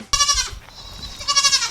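A farm goat bleats loudly and close by, a wavering call at the start and another near the end, with a quieter murmur between.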